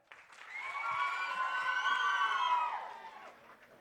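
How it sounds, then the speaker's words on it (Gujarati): An audience at a school prize ceremony claps for a few seconds, the applause swelling quickly, holding as a dense patter with some cheering, then fading out. "કેમ તાળી ઓછી થઈ ગઈ યાર?"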